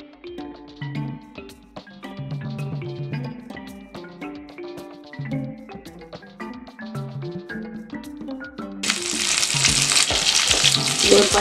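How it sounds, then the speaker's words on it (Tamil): Brinjal sautés in oil for an oil brinjal gravy. Melodic music plays for most of the time, then a loud, dense frying sizzle swells up near the end and continues. "நல்லா எண்ணெயில் நல்லா வதங்கணும்."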